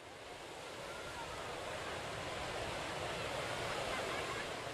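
Ocean waves wash steadily onto a beach in a continuous, fairly loud roar of surf that swells slightly and never breaks into distinct crashes.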